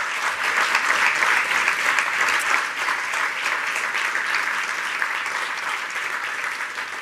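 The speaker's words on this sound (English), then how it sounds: "And warm applause." Warm, sustained audience applause fills a European research conference hall, loud at first and then easing slightly while continuing evenly to the end.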